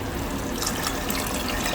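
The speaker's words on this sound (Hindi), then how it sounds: "1 कप के बराबर ये पानी शामिल कर दूंगी।" About a cup of water is poured into chana dal cooking with spices, a brief, steady splashing gush that fills the moment without pause.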